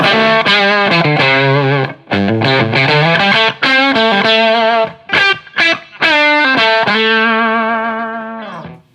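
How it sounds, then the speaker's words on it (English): Electric guitar through a hand-wired Fuzz Face clone fuzz pedal playing a quick melodic run of sustained, gritty overdriven notes with short gaps, loud and close, fading out at the end. "you get nice clean kind of overdrive sounds"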